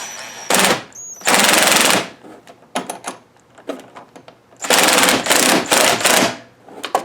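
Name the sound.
power driver with T30 Torx bit fastening mudflap screws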